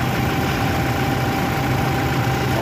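A steady mechanical whir of a Toyota Fortuner's engine clutch fan spinning fast and strongly after a silicone oil refill, with a continuous hum and faint vibration, close and unbroken.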